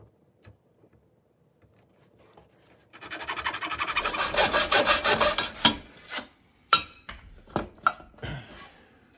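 A hand saw cuts a metal track for a Basco Deluxe glass sliding shower door, with quiet setup clicks first, then several seconds of rapid rasping strokes and a few final sharp scrapes, close and alone.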